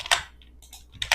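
Computer keys are pressed for a copy-and-paste shortcut, a few crisp, close clicks in two quick bursts with a brief quiet gap between, and no talking.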